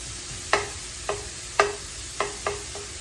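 Pinto beans fry in bacon grease while being stirred, a soft steady sizzle broken by six sharp scraping stirs spaced roughly half a second apart, close and fairly quiet.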